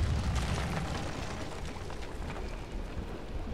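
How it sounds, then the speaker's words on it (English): A Greek fire explosion in the video game Rise of the Tomb Raider, heard as a loud, sustained roaring rumble of fire and blast that fills the whole span, close and dense. "Looks like I'll have to use the Greek fire."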